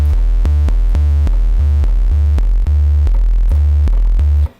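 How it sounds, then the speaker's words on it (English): A deep, buzzy synthesizer bass built from sine and sawtooth oscillators plays a repeated pulsing pattern of short rich notes, loud and alone, with a smooth low tone under a brighter edge. "I'm going to add that with a bit of sawtooth as well"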